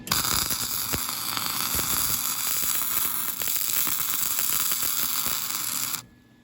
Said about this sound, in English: we're gonna plug weld washers on both ends